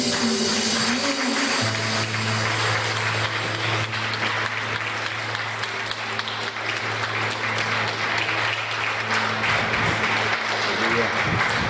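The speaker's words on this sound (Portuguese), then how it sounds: "Eu quero ouvir as palmas calorosas pelo Senhor" A church congregation at a worship service claps warmly, dense sustained applause filling the room for the whole stretch, with a voice carrying over it.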